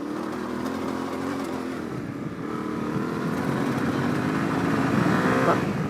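Yamaha T700 adventure motorcycle accelerating on gravel, its engine note rising and growing slightly louder over the stretch, heard at moderate distance under a rider speaking.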